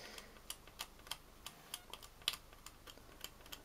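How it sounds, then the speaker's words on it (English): A fiberglass pencil lightly scrapes the solder mask on a printed circuit board, giving a quiet run of short, dry scratching ticks at an uneven, steady pace, with no talking. "We can do the biggest part of the work with the fiberglass pencil."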